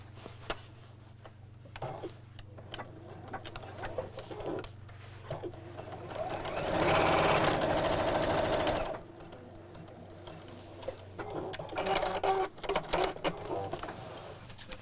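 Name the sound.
sewing machine stitching across fabric of a cross body bag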